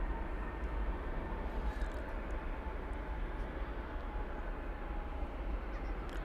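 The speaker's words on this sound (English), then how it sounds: "This American Airlines 737-800 is off to Los Angeles" An American Airlines Boeing 737-800 departs DFW Airport bound for Los Angeles, heard as a steady, even jet roar with a low rumble that holds for several seconds without a break.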